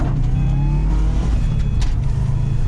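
A Subaru WRX pulls away and accelerates close by, its engine a steady low rumble that holds strong through the whole short stretch, with no one speaking.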